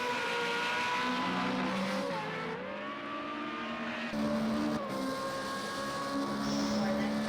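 Onboard lap of a Formula Renault race car in a racing game at the Algarve circuit: a loud, steady high engine whine that drops on a gear change around the midpoint, then climbs again, with a voice talking underneath.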